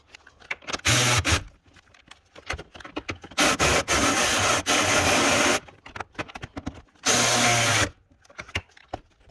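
Power tool tightening the rear shock bolts on a 2009 Toyota Camry, running in several loud, close bursts of a few seconds each, with pauses between them.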